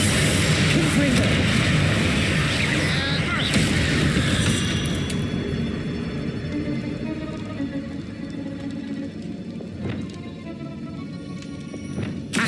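Spells are cast in the video game Hogwarts Legacy, giving loud booming magical blasts and bursts that dominate at first, then fade to lighter pops and crackles, with a voice chanting spell names throughout.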